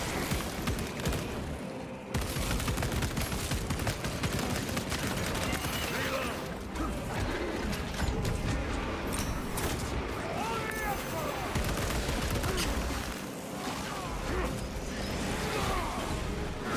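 Dense, continuous gunfire and explosive blasts from the video game Space Marine 2, loud and sustained throughout with bursts of rapid shots layered over a heavy low rumble, with faint talk mixed in.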